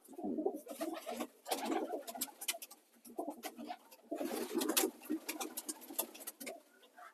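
Pigeons coo in a loft, with repeated soft, throaty calls from several birds at close range, alongside light pattering and shuffling sounds.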